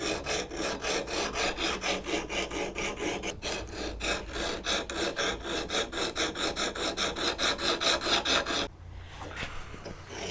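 An axe is sharpened on a sharpening jig, the steel rasping against the abrasive in steady back-and-forth strokes, rhythmic and close, before stopping abruptly near the end.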